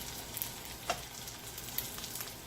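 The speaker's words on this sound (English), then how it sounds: "in here, I'm going to saute my vegetables" Vegetables sauteing in oil in a pan for an Italian-style tilapia dish, a steady soft sizzle with a few faint clinks, alone and fairly quiet.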